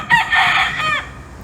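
A backyard rooster gives one loud, close crow of about a second, with a short cluck just before it, then falls quiet.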